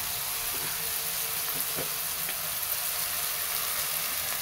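Softened red tomato with a little turmeric and salt sautés in a pan for a river fish curry, giving a steady close sizzle and hiss with a few faint stirring knocks throughout.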